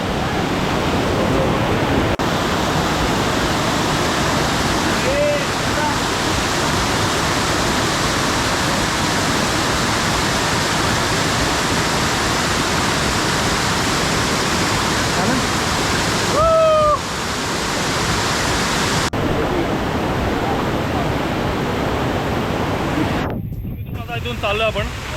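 Bokadkada waterfall near Vasai Virar in heavy rain, a loud continuous roar of rushing water that fills the whole scene, with a few brief sharp noises over the top.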